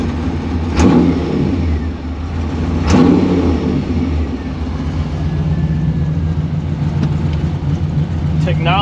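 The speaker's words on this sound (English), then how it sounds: "And then you can hear it idle now." A 1955 Chevy Nomad gasser's engine idles with a steady, rumbling mechanical drone close by, punctuated by two sharp louder bursts early on before settling into an even, continuous idle.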